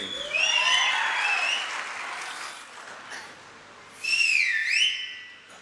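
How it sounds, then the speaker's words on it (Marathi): Crowd applause with shrill whistles at a political rally in Barshi, whistles rising and falling in two bursts over steady clapping, fairly distant and moderate in level. "आणि ऍडव्हान्स टाळी वाजवायची का आता वाजवा"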